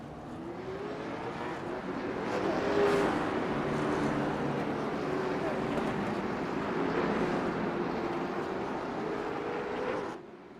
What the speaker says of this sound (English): as the drivers roll off to start the RC Cola 150 Challenge